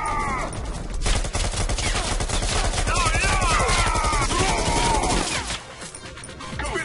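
Rapid rifle fire from the VR shooter game Bullet Train rattles out in dense, loud bursts that run almost continuously for several seconds, with impacts and clattering mixed in, before easing off near the end.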